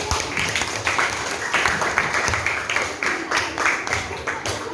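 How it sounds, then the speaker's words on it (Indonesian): A class of sixth-grade pupils applauds a classmate during a maths lesson, a steady wash of many hands clapping at moderate volume, with some talk mixed in. "Tepuk tangan lagi buat Fadli."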